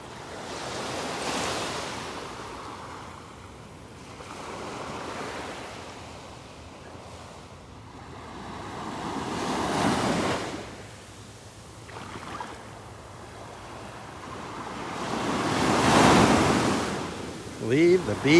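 Ocean waves wash onto the beach at Delnor-Wiggins, rising and falling in slow broad surges, with wind buffeting the microphone and a brief distant voice near the end.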